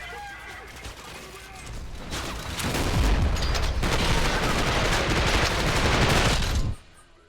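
Rapid, dense gunfire and explosions roar in the video game Trepang2, building to a loud sustained barrage and then cutting off abruptly, with a voice talking over the action.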